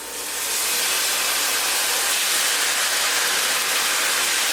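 A can of Rotel tomatoes hits a hot pan of onions, setting off a loud, steady hissing sizzle that rises quickly and holds, with no talking.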